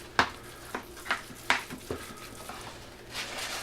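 A spoon scrapes and taps through stuffing in a greased casserole pan in a series of close, crisp clinks and drags spaced about half a second apart, followed by a softer shuffling tail with no talking.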